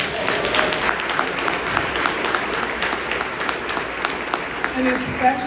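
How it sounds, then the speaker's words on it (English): Audience applause for the drummers at a Malcolm X birthday celebration, a steady wash of clapping with voices mixed in and a few cheers toward the end. "Let's give a round of applause to our drummers."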